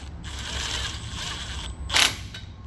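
Deep socket wrench working a bolt while fitting a safety light on a forklift, giving a continuous close mechanical ratcheting rattle with a sharper burst near the end.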